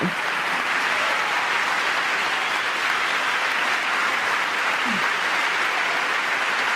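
A large audience at a Trump speech applauds in a continuous, even roar of clapping that holds steady and loud throughout, with no pause or break.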